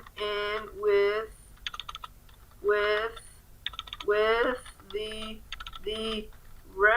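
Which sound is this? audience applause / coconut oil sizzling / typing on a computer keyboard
typing on a computer keyboard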